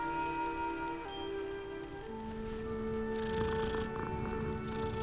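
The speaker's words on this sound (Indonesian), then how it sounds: "Ada hewan teman-teman, ada kucing." A cat purrs softly in the video game Hogwarts Legacy, a low, steady rumble mixed under sustained tonal game music and ambient background sound, with no speech.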